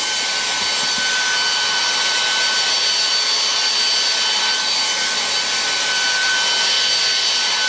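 A Philips Active Cool 1650 HP3462 hairdryer running on turbo high speed, a loud, steady airy whoosh with a faint whine held continuously throughout, with no talk.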